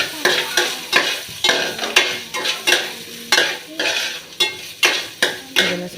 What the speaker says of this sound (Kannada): ಅದಕ್ಕೆ ಎಣ್ಣೆ ಹಾಕ್ಕೊಂಡು ಒಂದು ಸ್ವಲ್ಪ ಡ್ರೈ ರೋಸ್ಟ್ ಮಾಡ್ಕೊಳ್ಳಿ,